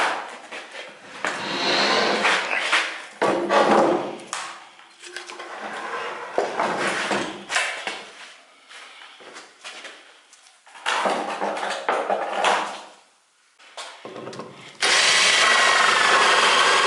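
A Fiat 126p engine is handled and set onto a table, heard as close, irregular scrapes, knocks and metallic shuffling in uneven bursts separated by brief quiet gaps.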